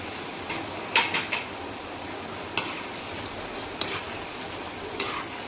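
Potatoes going into hot oil in a kadai wok over a high gas flame, a steady broadband fry hiss with a few sharp clinks and scrapes of a utensil against the pan.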